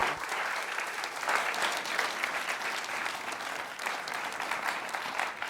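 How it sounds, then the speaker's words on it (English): Audience at a live show clapping for a departing guest, a full, even round of applause that holds steady throughout with no voices on top. "But a round of applause for Sahni as well."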